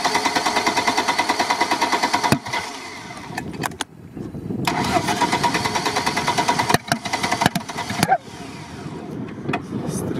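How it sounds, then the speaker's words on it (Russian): A Lada Niva engine with a carburetor fault runs roughly in a rapid chugging rhythm, broken by several sharp, loud backfire pops, with voices faintly in the background. "Стреляет карбюратор."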